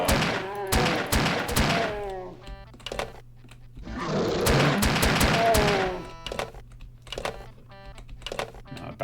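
Modified pistol firing in a Doom map, sharp clicky shots in quick irregular clusters with short bursts of noise between them, fairly close and crisp, with a voice talking in places.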